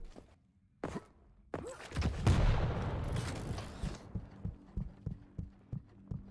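Machine gun fire in a competitive first-person shooter tournament match: a dense burst of rapid shots, then a run of evenly spaced, punchy single reports. The game audio plays alone at a moderate level.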